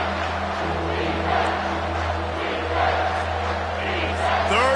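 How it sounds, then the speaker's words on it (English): Stadium crowd roaring in a College Football 25 game on third down, a broad sustained wall of cheering noise at steady loudness, with commentary voices faint underneath. "this crowd is tearing the lid off this place"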